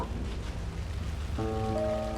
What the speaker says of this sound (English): Our crime scene's drowning. I never minded rain.